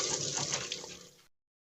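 Water splashing and rushing while a used toilet bowl is washed before installation, a steady close wash of liquid noise that fades out after about a second, with no one speaking.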